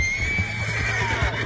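A horse in Red Dead Redemption 2 gives a loud, close whinny, its wavering cry held over low rumbling and faint hoofbeats.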